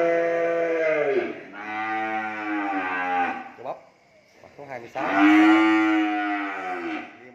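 Cattle on a farm moo in long, loud, close calls, two drawn-out bellows separated by a brief pause, with someone speaking briefly between them.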